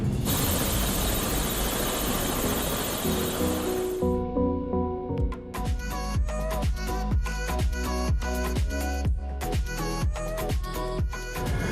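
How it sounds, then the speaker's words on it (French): Broadband rotor and engine roar for the first few seconds, giving way to a rhythmic thumping beat with whining tones, a helicopter close by. "je vais te déposer à ton hôtel en hélicoptère"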